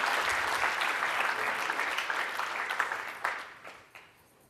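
A live audience claps loudly and steadily for a volunteer coming up on stage, a dense wash of applause that thins and fades out toward the end.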